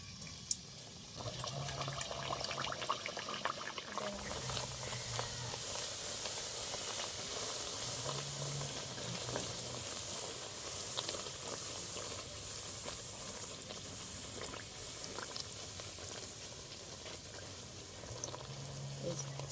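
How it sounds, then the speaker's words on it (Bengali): Bhatura dough frying in hot oil, a steady broadband hiss and bubbling sizzle that holds at a constant level throughout, with no talk over it. "তেলটা গরম হয়ে গেছে, এবার দিয়ে দেবো।"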